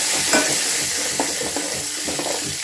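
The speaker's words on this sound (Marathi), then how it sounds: "त्यानंतर आपण त्यात ऍड करणार आहोत बारीक चिरलेली हिरवी मिरची" Finely chopped green chili frying in a garlic tempering for dal, a loud, close, steady sizzle broken by repeated spoon scrapes and stirring strokes, with no voice over it.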